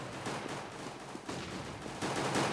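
Rapid gunfire in a Counter-Strike match on a crowded map, with dense, continuous bursts of automatic shots that grow louder toward the end, and no talk over them.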